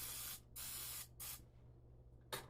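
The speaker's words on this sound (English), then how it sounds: "So I'm going to go ahead and spray the silicone" A hand spray bottle mists a silicone egg bite mold in a kitchen, giving three close, soft hissing bursts with short pauses between them.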